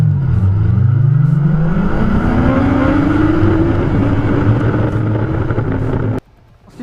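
A Yamaha FZ8 motorcycle accelerating hard from standstill to 100 km/h, the loud, close engine note rising steadily in pitch through the gears, then cutting off abruptly near the end.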